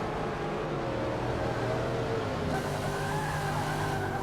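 Race car tyres locking and squealing under hard braking into a horseshoe turn at Sonoma in a historic Trans Am racing game, engine roar steady underneath, close and continuous.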